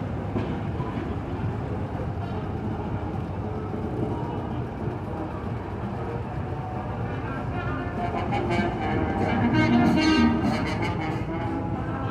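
Historic Jelcz bus rolling past during a vintage bus parade, a steady loud engine and road rumble that swells as it passes, with people speaking over it.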